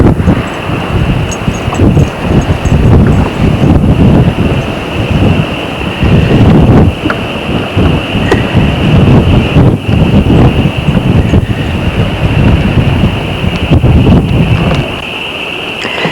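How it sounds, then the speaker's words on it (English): Strong wind roars and buffets the microphone in heavy gusts throughout on a farm, loud and close, with no talking. "it's a real windy day out here today"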